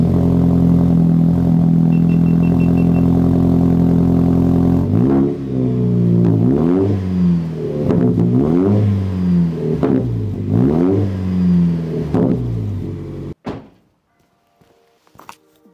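A 4th gen Toyota Tacoma TRD with a new AWE exhaust idles loudly, then revs repeatedly in a series of rising and falling engine pulls before shutting off abruptly, heard close with no talking.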